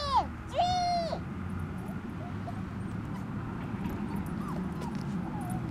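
A puppy on its first walk gives a few high whimpers and yips near the start, then softer intermittent whines over a low outdoor background rumble.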